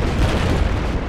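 A rocket explodes in a military video game with a scout chopper squad, one loud, close, rumbling boom that fills the whole moment with no voices over it.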